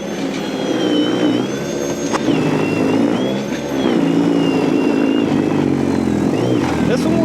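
A battery-powered snow blower runs on a gravel driveway with a steady, loud motor whine and churning rumble, its pitch shifting slightly as it works, with someone talking over it.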